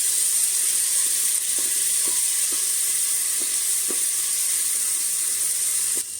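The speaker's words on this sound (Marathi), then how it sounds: "तेल गरम झाल्याच्या नंतर त्यात आपण आलं लसूण हिरवी मिरचीची पेस्ट घालू पेस्ट चांगली परतून घेते मी" Ginger, garlic and green chili paste fries in hot oil with a steady, close hiss and sizzle, broken by a few soft clicks of stirring.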